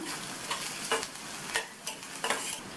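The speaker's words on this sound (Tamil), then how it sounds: "இதை ஒரு 1/2 நிமிஷம் போல் வதக்கி விட்டுக்கலாம்." Potatoes with crushed garlic sizzle in a pan while being stirred, with a steady frying hiss and soft, irregular scraping strokes, faint and close.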